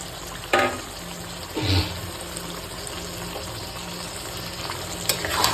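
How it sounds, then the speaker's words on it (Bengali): Marinated chicken frying with onions in a pan, a soft continuous sizzle with a few louder scrapes and knocks as the mixture is stirred, fairly quiet and with no voices. "তারপরে ভালোভাবে নাড়াচাড়া করে নেবে।"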